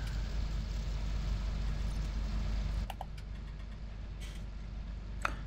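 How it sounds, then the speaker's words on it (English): A tractor engine in Farming Simulator 2017 drones steadily at a low pitch. After a few seconds the tone drops slightly, and a few faint clicks sit over the continuous hum. "Tractor seems to be going along quite nicely though."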